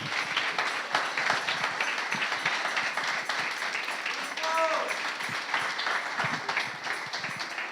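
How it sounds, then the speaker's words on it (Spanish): Applause from a church congregation after a prayer, a moderate crowd clapping steadily with scattered louder claps and a short voice sounding midway. "Fuerte aplauso"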